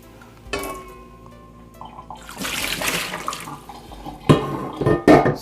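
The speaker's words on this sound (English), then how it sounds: "So let me discard this water quickly." Boiling water is poured out of a de Buyer carbon steel pan into a sink, giving a splashing, rushing pour with a few sharper splashes near the end, close by.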